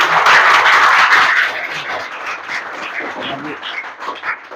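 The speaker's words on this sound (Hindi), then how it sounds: "फिर से एक बार जोरदार ताली।" Loud, close applause from an audience at a school computer donation function, dense clapping for about a second and a half that then thins into scattered claps.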